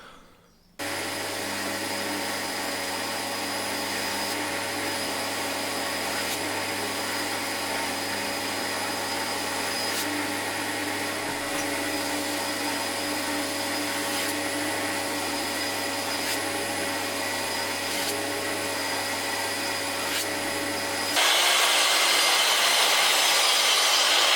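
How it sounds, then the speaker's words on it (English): A grinder runs while shaping a chef's knife blade cut from a saw blade, handle not yet fitted, giving a steady, loud, whining motor hum that shifts to a rougher, brighter noise near the end. "the grinding is a lot easier to do without the handle in the way"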